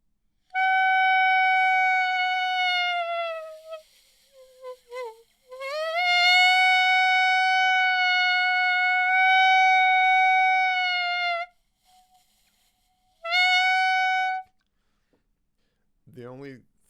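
A woodwind instrument sustains long tones whose timbre shifts and bends as the mouthpiece angle in the mouth changes, with several held notes separated by short gaps and a brief breathy squeak near the end.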